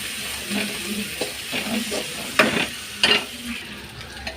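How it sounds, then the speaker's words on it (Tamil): Onions with curry leaves sauté in a pan, a close, steady sizzle broken by rhythmic stirring strokes and a couple of sharper scrapes of the spatula. "வெங்காயம் நல்லா வதங்கட்டும்."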